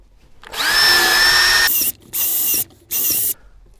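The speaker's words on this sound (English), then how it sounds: "Okay, let's drill our bigger holes." A power drill fitted with a larger bit widens holes while arcade lighting effects are installed, one long whirring run followed by two shorter bursts, close and loud with no voices.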